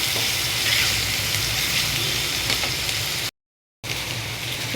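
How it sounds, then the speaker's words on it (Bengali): Chopped onion sizzles steadily in hot oil with bay leaf, cardamom, clove and cinnamon, a dense, even crackle that holds loud and close before cutting out briefly and resuming. "সুন্দর করে পেঁয়াজটাকে ভেজে নিচ্ছি।"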